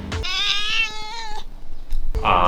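Cats on Koh Phi Phi island give two drawn-out meows with a short pause between them, both loud and close.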